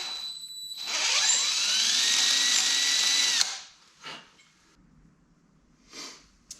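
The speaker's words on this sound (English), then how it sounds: "I'm going to need to do is drill this hole out just a hair" A power drill whines steadily for a few seconds while enlarging a hole in a CRF300L Rally motorcycle fender eliminator, then stops, followed by a couple of faint clunks and rustles.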